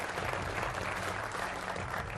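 Studio audience applauding to welcome a BJP national spokesperson onto a Hindi TV political debate show, a dense, steady burst of clapping for a couple of seconds.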